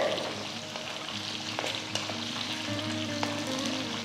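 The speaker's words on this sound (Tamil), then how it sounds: "ஒரு அஞ்சு நிமிஷம் மீடியம் ஃப்ளேமில் இது நல்லா வதக்கிக்கோங்க" Shallots and drumstick pieces sauté in oil in a pan for arachuvitta sambar, a steady close sizzle with occasional clinks of a spoon against the pan, no voices.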